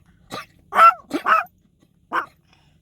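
A female dog gives several short, close barks and huffy woofs in a quick cluster, then one more after a pause, loud and alone against silence.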